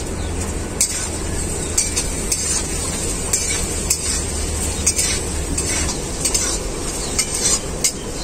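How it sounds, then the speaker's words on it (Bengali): Chopped onions frying in hot oil in a pan, a steady close sizzle with occasional sharp clicks of a spoon stirring against the metal. "ছোট করে কেটে রাখা পেঁয়াজটা তেলে দেওয়ার পরে"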